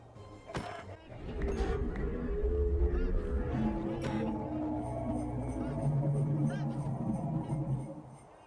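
Chickens cluck in a blocky, Minecraft-style Christmas adventure game, a continuous fowl squawking that sits over a busy bed of game ambience with sharp clicks for the whole stretch.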